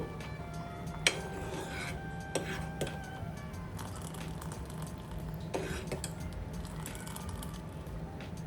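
Milk and sago payasam with jaggery being stirred in a pot, a steady low scraping and rubbing of the spoon against metal with a few sharper clinks, close and continuous without speech.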